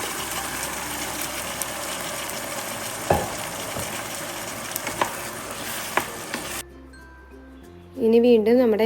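Cooked beef sautés in a pan with shallots and coconut, a continuous close sizzle with occasional stirring clinks. It stops abruptly near the end, and music starts.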